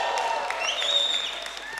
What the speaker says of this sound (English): There are people who are whistling as well